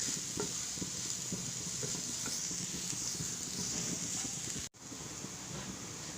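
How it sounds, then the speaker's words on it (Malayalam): Squid stuffing sautés in a pan for stuffed squid, a steady close hiss of sizzling oil with soft scraping and stirring knocks throughout. "ഇതിൻ്റെ പച്ചമണം മാറുന്നവരെ നമുക്ക് വാട്ടി കൊടുക്കാം."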